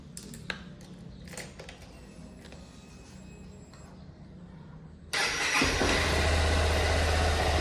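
A Honda Bros 160 motorcycle with a hose fitted to its intake is cranked and starts, settling into a loud, steady running engine drone after a few seconds of faint handling noises.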